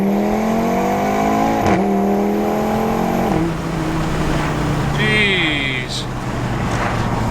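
Audi RS3 fitted with a new intercooler accelerating hard through the gears, its engine note climbing and dropping at each shift with a turbo whistle, heard from inside the car while a person briefly exclaims.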